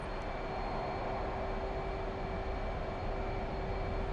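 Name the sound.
F/A-18 Hornet jet afterburner on runway, DCS video game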